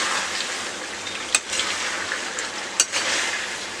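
Chicken curry sizzling in oil in a pan as its water cooks off, a continuous bright frying hiss broken by two sharp clinks of a stirring spoon against the pan.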